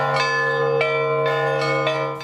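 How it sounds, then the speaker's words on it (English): Large bells toll at a Maryland memorial service for fallen firefighters. About five loud, ringing strikes come at an even, unhurried pace, each overlapping the long humming decay of the one before, with no voices. "Bells ringing loud in memory of those gone."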